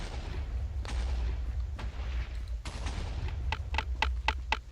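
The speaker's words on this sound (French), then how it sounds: "Oh la grenade, je suis mort." Game gunfire and a grenade blast in a French-language shooter: a steady noisy battle bed with sharp booming hits, then a quick burst of several evenly spaced shots near the end.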